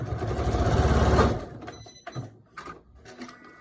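Sewing machine back stitching a fabric face mask with elastic and a nose wire, running in one fast buzzing burst before stopping, then a few faint handling clicks.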